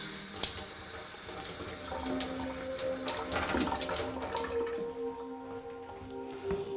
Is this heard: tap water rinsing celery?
yes